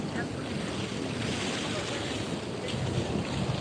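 Ocean waves at Puri beach wash in as a steady, broad roar, mixed with heavy wind buffeting on the microphone and no clear breaks in the surf.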